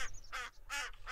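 A goose call lure in the hunting video game theHunter: Call of the Wild sounds three honking, quacking bursts in quick succession, loud and close, with no talking.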